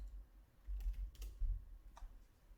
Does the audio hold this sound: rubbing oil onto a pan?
no